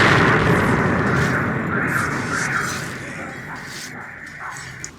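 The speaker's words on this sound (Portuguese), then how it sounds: "Então o áudio deu para ouvir uma grande explosão ali em Rostov" A large explosion in Rostov, picked up by a camera microphone, is a loud, broad rumbling roar that slowly fades over several seconds.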